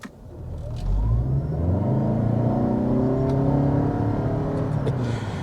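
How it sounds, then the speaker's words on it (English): A 2021 Toyota Avalon Hybrid XSE accelerates with traction control on, heard from inside the cabin, engine and motor whine rising steadily in pitch over several seconds, loud and continuous with no talking. "let's do another slight acceleration run here really quick"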